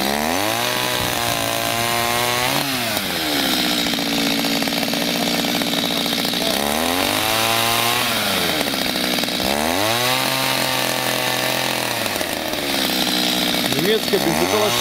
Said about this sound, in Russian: Немецкая бензопила штиль.